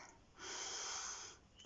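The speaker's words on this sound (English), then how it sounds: "Take a deep breath in." A single deep, drawn-out breath in, close and clear, rising and holding steady for about a second before easing off, with no talking.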